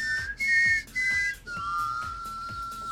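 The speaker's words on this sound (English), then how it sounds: "We have to do this together, the Mockingjay whistle." A person whistles the Mockingjay call, a short melodic phrase of clear pure tones with a few pitch steps ending in a long held note, close and loud with no talking.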